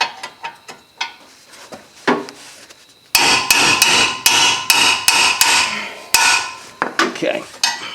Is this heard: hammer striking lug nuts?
yes